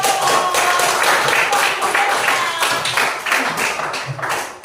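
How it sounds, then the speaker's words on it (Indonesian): A group in a classroom gives a round of applause, steady dense clapping that holds for several seconds before thinning out. "Iya, atau berikan aplaus."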